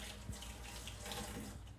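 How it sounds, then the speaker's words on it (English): Steady rush of tap water running over vegetables being washed in a kitchen sink before cooking spaghetti Bolognese, an unbroken close splashing stream. "We need to wash carefully all of these vegetables"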